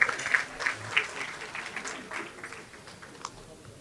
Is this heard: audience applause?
yes